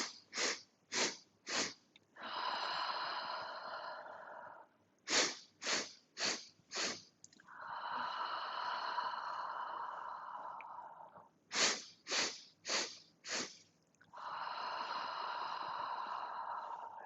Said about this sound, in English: inhale through the nose for 4 sniffs and exhale with a beautiful sigh out of the mouth